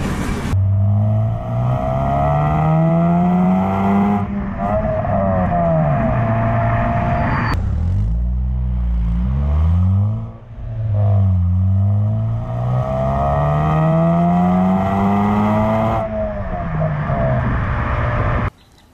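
Modded Honda Civic Si with a tune, engine revving hard through the gears into VTEC, loud rising pitch sweeps repeated several times with short dips between shifts, heard from inside the car.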